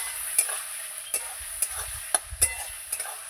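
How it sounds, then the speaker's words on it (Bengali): A spatula stirs chicken stomach with salt in a pan. About seven or eight soft scraping strokes sound at an uneven rhythm over a faint background sizzle, close by and fairly quiet, with no one speaking. "এই যে লবণ দিয়ে এবার ভালো করে আবার নাড়াচাড়া করব।"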